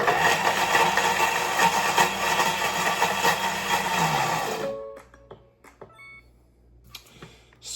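A Thermomix TM7 chops ingredients in one loud, steady whirring burst of about four and a half seconds that cuts off abruptly, followed by a low hum and a few light clicks in near silence.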